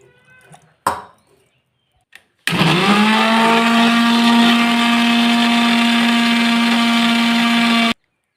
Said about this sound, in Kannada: ಕ್ಲೀನಾಗಿ ತುರಿದಿರೋದನ್ನು ಮಿಕ್ಸಿ ಜಾರಿಗೆ ಹಾಕಿ